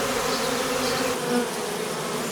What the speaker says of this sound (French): il y a déjà des abeilles dans la ruche, donc elles peuvent appeler les autres